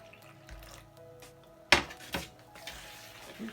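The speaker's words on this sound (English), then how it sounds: "make a well in the middle and add some water" Water poured into a bowl of flour with cumin seeds and oil for samosa dough lands in a sudden splashy burst partway through, followed by a few softer sloshes and faint bowl clatter in a quiet kitchen.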